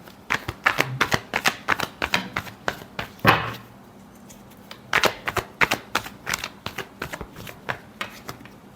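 Tarot cards are shuffled close up in a run of crisp, rapid riffles and taps, one louder slap midway, then more quick shuffling strokes, with no voice over them.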